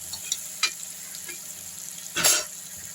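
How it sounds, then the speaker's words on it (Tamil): Spices for Tamil vatha kuzhambu sizzle softly in a pan while a utensil stirs, with a few scraping clatters and a brief louder burst near the end. "இது நல்லா வதக்கிப்போம்."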